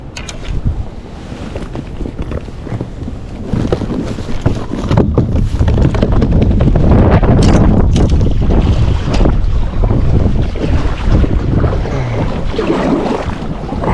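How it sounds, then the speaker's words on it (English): Strong wind buffets a fishing boat out on open water during a bass fishing trip, roaring steadily across the microphone for the whole stretch with rushing gusts and water noise beneath, no one speaking. "This wind's bad."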